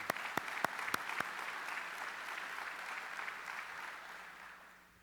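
Audience applause at a U.S. Army conference opening ceremony, a few sharp claps at first, then a dense, distant wash of clapping that slowly fades.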